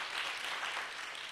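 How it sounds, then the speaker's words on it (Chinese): A church congregation claps warmly after a testimony, a dense, even patter of many hands that carries on steadily for the whole stretch, heard a little way off. "我们再给子瑜一个热烈的掌声"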